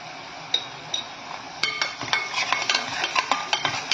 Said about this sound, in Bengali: দিয়ে নেড়ে দিলাম।